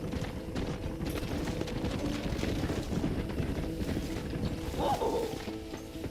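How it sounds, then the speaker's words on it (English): Horse hooves clip-clop steadily in a video game, a continuous muffled clatter over a dense, noisy game background, with no voices. "Eu voltei pra cima do cavalo, meu."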